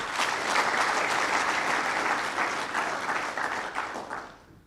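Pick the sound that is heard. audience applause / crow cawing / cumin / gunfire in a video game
audience applause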